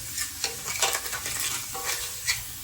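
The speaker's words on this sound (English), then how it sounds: "we're just gonna wait for these vegetables to cook down a little bit more" Steady crackling sizzle of vegetables frying in a pan, with occasional stirring scrapes, close and continuous with no talking.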